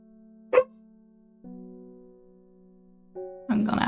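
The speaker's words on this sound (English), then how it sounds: "She's barking at the bed." A dog in a game barks at a bed: one short bark, then a longer tonal yelp-like sound, and a louder burst of barking at the end over a low steady drone.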